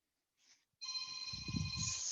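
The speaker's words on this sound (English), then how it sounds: "forgot to turn off my phone" A mobile phone ringtone goes off during a yoga class, starting abruptly after a brief faint sound and then sustained as a steady, loud electronic tone that fills the rest of the moment, with low rustling beneath.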